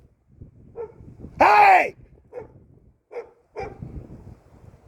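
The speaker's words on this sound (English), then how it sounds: "Come get your dog!" A single loud dog bark rings out close by, followed by a few fainter short sounds, with a person shouting briefly and wind noise on the microphone.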